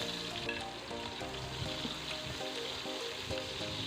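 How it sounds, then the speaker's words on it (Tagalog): Garlic sautés in a pan for stir-fried yakisoba, a steady broadband sizzle and crackle holding close and even throughout, with faint tonal hum from the kitchen beneath. "Unahin po natin ang bawang. Saute lang po natin hanggang maging golden brown."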